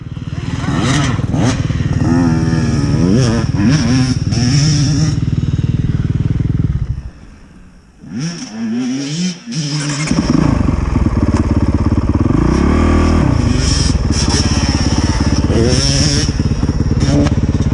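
A Honda CRF 450R dirt bike in a backyard supercross setting revs loudly and close, stumbles and drops nearly silent for a few seconds, then sputters back to a rough, struggling roar, with voices faintly underneath.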